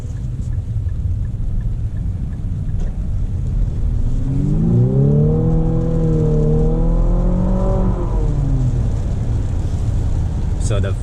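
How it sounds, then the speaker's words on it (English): Infiniti QX50 luxury SUV with a CVT accelerating, a steady engine drone rising in pitch over several seconds and easing off, heard from inside the cabin at constant loud level. "I'm going to turn around here in a second so we can actually see the power this car has."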